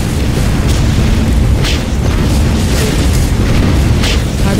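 Bomber strikes in the video game Command and Conquer Generals set off a continuous, very loud wall of booming explosions, dense and rumbling with no gap from start to finish.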